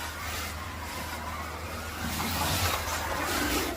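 Scalextric Ford Escort slot car running on a track, giving a steady electric whirr that swells louder partway through over a constant low hum, with no talking.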